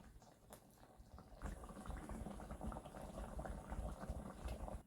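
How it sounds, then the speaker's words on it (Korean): A pot of thick curry simmering on low heat with a continuous bubbling and popping that grows a bit louder partway through, heard up close without talk. "약불로 10분 더 끓여주세요"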